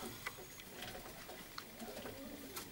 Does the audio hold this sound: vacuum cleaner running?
no